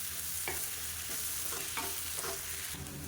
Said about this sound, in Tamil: இப்போ அதை சேர்த்து பரட்டி விட்டுக்கலாம்.